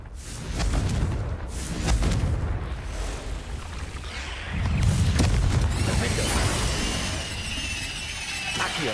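Confringo fire blast spells explode in Hogwarts Legacy: rumbling booms with a crackling, glassy debris texture, swelling twice in loud surges over several seconds of continuous game noise.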